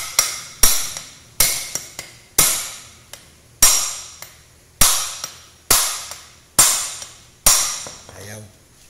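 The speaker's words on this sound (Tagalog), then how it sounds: "Pok ng martilyo dito." A hammer strikes the bearing on a window-type aircon fan motor: about ten sharp, loud metallic blows at an irregular pace, each ringing briefly before fading, with a softer clatter at the end.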